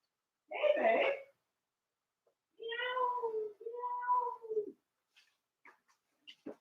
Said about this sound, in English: we talk to our cat all the time